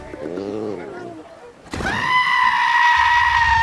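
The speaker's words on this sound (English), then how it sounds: "The movie also brings back the screaming goat meme." A screaming goat meme sound in a Disney movie: a short bleat-like cry, then a sudden loud, sustained human-like scream that holds steady for about two seconds, close and piercing.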